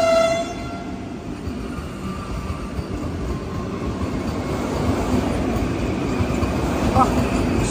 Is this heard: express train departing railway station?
yes